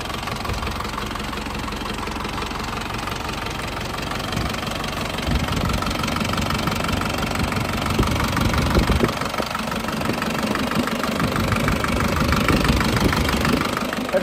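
A 2012 Isuzu D-Max diesel engine idles steadily with a rough, knocking clatter, loud and close, growing slightly louder partway through with no talking.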